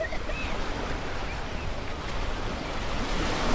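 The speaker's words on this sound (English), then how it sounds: "the waves crashed against the shore" Ocean surf washing against a shore, a steady broad roar of waves with wind noise running through all of it, continuous and fairly close, with no voices.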